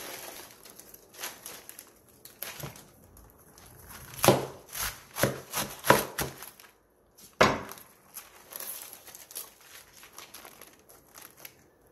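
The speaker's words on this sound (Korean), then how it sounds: "배추 3포기를 칼을 이용해 길게 4등분으로 잘라주세요." A knife cuts through napa cabbages lengthwise into quarters, giving crisp crunching, tearing and cracking sounds in irregular bursts with short quiet gaps between, close and fairly faint, without speech.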